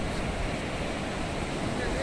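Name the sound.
ocean waves breaking on the beach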